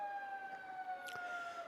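Sirens from a Korean fire brigade's high-performance pump engine, ambulance and rescue truck arriving at a simulated radiation fire during a Haeundae disaster drill: two steady wailing tones held under distant street noise, with a brief burst of activity near the end.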